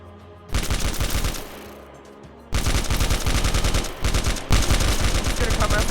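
Rapid bursts of gunfire in a Minecraft game with a Rainbow Six Siege–style shooting mod, loud repeated shots in clusters separated by brief pauses, dense and close.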